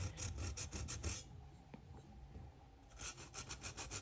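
Hand rasp grater shaving thick callus from fingers of a hand with palmoplantar keratoderma, giving close, rhythmic rasping strokes in two bursts separated by a quieter pause, with no talk.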